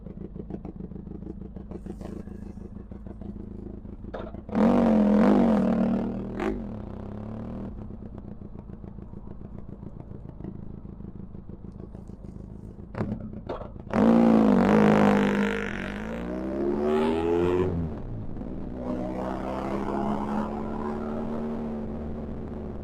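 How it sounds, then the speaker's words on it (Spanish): A Benelli TRK 502 X motorcycle fitted with an Arrow exhaust rides through city streets, its engine idling and burbling steadily, with two loud revving bursts that rise and fall in pitch. "Para que terminéis de disfrutar un poquillo más el sonido de esta Benelli por la ciudad."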